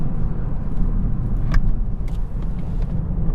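Toyota Corolla 180H hybrid car accelerating, heard from inside as a steady low rumble of engine and road noise that holds level throughout, with a brief sharper click near the middle.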